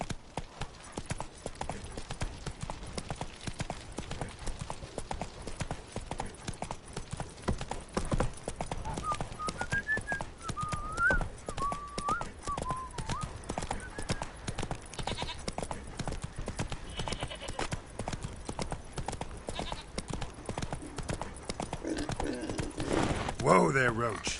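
Roach, a horse in The Witcher 3, trots with a steady, rapid clip-clop of hooves that runs the whole way, under game voices and a brief whinny-like cry.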